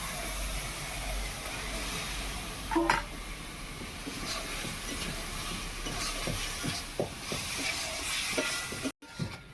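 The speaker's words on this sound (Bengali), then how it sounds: "আলুটা বেশ কিছুক্ষণ কষে নিয়েছি" Large parboiled potato chunks fry in a thick spice masala for a Bengali snail (googli) curry, giving a steady close sizzle and hiss with scraping stirs and a brief louder burst, no talking.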